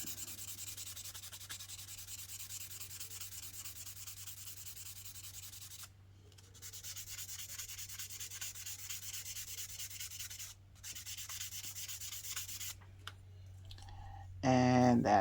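A sanding stick rubs over a plastic model part to smooth away a mold line, a soft continuous scratchy hiss close by with a few brief pauses and a small knock at the end.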